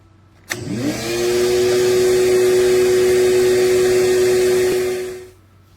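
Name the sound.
15 amp shop vac running on a portable power station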